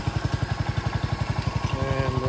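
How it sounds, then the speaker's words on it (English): A small tractor engine chugs steadily at a fast, even idle, each firing pulse distinct, close by and fairly loud, with a faint whine rising near the end. "The tractor's running"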